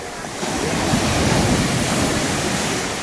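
Sea waves break on a beach at Kaş, Turkey, in a steady, close, broadband roar of surf that runs for the whole stretch with no voices.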